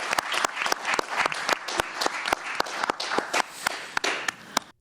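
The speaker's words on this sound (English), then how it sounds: "let's give all of the candidates a nice round of applause" A small room of listeners applauds mayoral candidates at a radio forum, sparse, uneven hand claps from a modest audience, sharp and fairly close, fading out after a few seconds.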